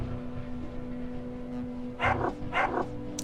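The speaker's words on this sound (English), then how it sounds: "Oh, we have dogs." Guard dogs in the video game Underrail bark in two short bursts near the end, over a steady low electrical hum and faint game ambience.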